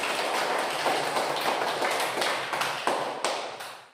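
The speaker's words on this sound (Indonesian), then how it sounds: "Kasih tepuk tangan dulu" Classroom applause after a group's presentation, a brisk, uneven patter of hand claps with a few sharper individual claps, moderately close and fading at the end.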